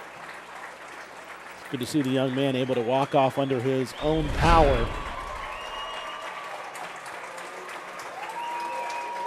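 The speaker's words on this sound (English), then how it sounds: "Round of applause you hear" Crowd applause in the stands at a high school football game rises in a brief swell while a commentator talks over it, then fades into the background.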